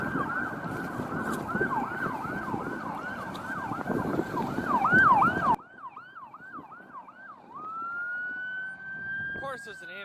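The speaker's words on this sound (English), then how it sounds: "Of course there's an ambulance coming." Ambulance siren wailing near a crash scene with oil spilled on the road, loud and rapidly cycling at first over traffic noise, then continuing in slower sweeping wails before settling into a steady tone.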